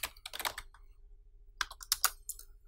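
Quick bursts of close computer-keyboard typing while renaming an object in Cinema 4D, two clusters of crisp key clicks separated by a silent pause.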